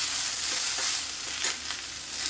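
Tomatoes and green chilli fry in a pan with a continuous bright sizzle, crackling steadily with occasional stirring, and no talk.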